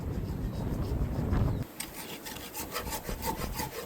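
A hand saw cuts through a boar's jaw bone with a dense rasping grind that stops partway through, then shorter, lighter strokes follow in a regular rhythm, close and fairly quiet.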